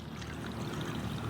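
Coconut milk poured into a simmering fish curry makes a short, steady liquid rush close by.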